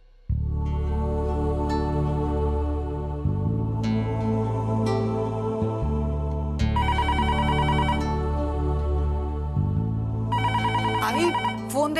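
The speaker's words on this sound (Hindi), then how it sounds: "फोन आ रहा है" A phone ringtone plays a loud, repeating electronic melody with bright chiming tones, continuous for several seconds.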